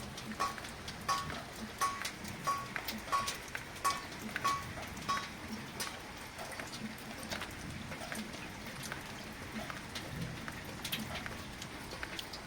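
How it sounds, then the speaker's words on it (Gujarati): Steady rain patters on a surface, with dense crackling drops throughout and a faint repeated beeping early on. "ઘણી સારો વરસાદ આવ્યો ઘડીક તો જોરદાર વરસાદ આવી ગયો હતો"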